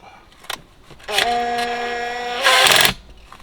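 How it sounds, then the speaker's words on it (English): An impact drill fitted with an 18 mm socket runs slowly on a boat's steering nut during a hydraulic steering kit install, a close whirring motor that steps up louder near the end before stopping, with small clicks around it. "using my impact drill with an 18 mil bit or socket, just go super slow and push at the same time"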